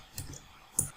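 Computer keyboard keys are pressed during a Linux server install, giving two soft, separate clicks about half a second apart with a faint third at the end, quiet and close.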